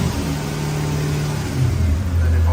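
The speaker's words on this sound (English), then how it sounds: "now if I apply some throttle, it will start." A Toyota 1UZ V8 engine cranking and catching as throttle is applied, a steady low mechanical drone that rises into a higher, stronger hum near the end, close and loud, with an idle control valve fault.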